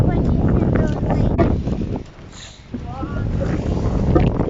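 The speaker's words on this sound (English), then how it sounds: "Very windy day today." Strong gusts batter the microphone on a stormy shoreline walk around an island on the Mersey, a loud buffeting roar that surges and briefly drops before returning, with voices talking underneath.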